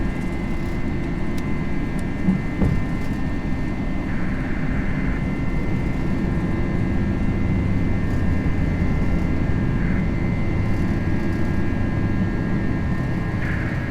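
Airbus A320 taking off in a flight simulator, a steady loud engine roar with a continuous low rumble and a faint high whine held throughout, no voices heard.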